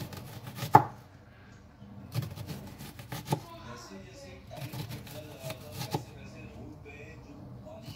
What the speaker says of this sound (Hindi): अब ले लेते हैं प्याज को और इसको भी कुछ इसी तरह काट लेंगे।